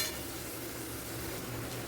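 Spices for coconut vegetarian ghugni being stirred and fried in a pan, a soft continuous sizzle with faint scraping of the spoon, quiet and close with no talk.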